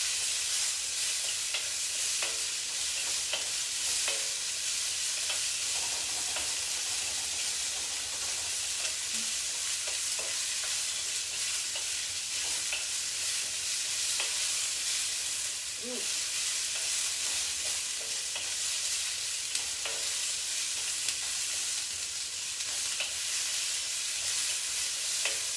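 Vegetables stir-frying in a wok for a shrimp stir fry give off a steady, loud hissing sizzle that runs unbroken for the whole stretch, with occasional soft taps and scrapes from stirring and no talking.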